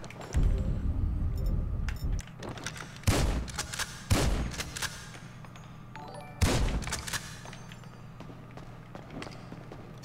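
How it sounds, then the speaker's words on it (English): Gunshots from a firearm fired in first person in GTA 5 come as several loud, sharp, separate reports with short gaps between them, over a low ambient game rumble. "I never shot this gun in first person before"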